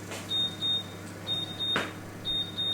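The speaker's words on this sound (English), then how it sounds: "It's beeping!" A kitchen oven timer beeps in short pairs of high electronic tones, three pairs spaced about a second apart, clear over a quiet hum with a brief knock in between.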